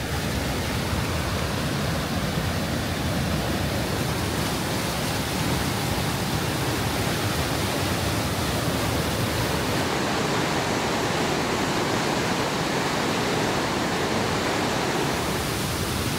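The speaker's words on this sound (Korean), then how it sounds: "보는 이를 압도하는 인상적인 폭포입니다." A powerful, high-volume waterfall in the Canadian Rockies roars as a dense, steady rush of crashing water, loud and continuous throughout with no voices.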